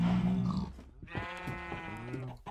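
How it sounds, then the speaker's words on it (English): Several differently colored sheep bleating in the Minecraft video game, one loud bleat up close followed by further overlapping bleats in quick succession, with no talking. "This is the sheep floor with all sorts of different colored sheep."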